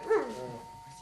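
A hearing dog gives a single short, close bark that trails into a brief whine, set against faint background tone.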